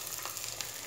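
Garlic sautéing in a pan for Rajasthani dal baati, a soft continuous sizzle, brief and fairly quiet.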